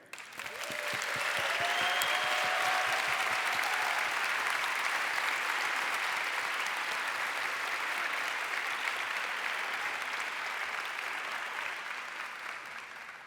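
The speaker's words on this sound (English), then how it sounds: "We'd love to ask for a round of applause for everyone here." Broad, sustained applause fills a conference hall at a summit's closing plenary session, swelling quickly and holding steady for many seconds before thinning slightly.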